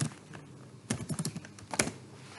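Code being typed on a computer keyboard while writing a C program, heard as scattered clusters of close, crisp key clicks with a brief flurry near the middle and a few louder strikes later.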